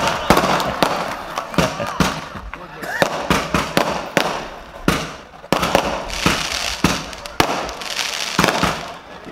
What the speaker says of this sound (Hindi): क्योंकि चांद जब देखते हैं तो ऐसी आतिशबाजी होती है